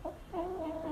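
A young rooster gives a short, close clucking call, a quick note followed by a longer wavering cluck, heard alone.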